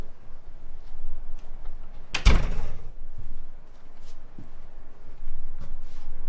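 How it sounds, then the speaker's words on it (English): An office door swings shut with a single solid thud, close by, amid quiet room tone. "Close the door."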